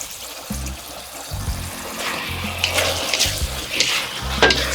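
Fried eggs are tossed in a thickened sauce in a wok. A wet sizzle and bubbling run under repeated scrapes and clatters of the spatula that grow louder toward the end, with a low steady hum throughout.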